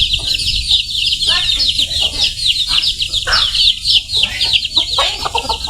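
Chickens cluck continuously close by outdoors in a bamboo forest, with overlapping calls from several birds over a steady hiss of background noise.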